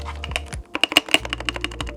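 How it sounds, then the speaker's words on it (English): Typing on a Drunk Deer A75 Hall effect keyboard gives a deep, thocky run of close key presses, about a dozen quick strokes at an uneven pace with no talking. "it's a thocky keyboard"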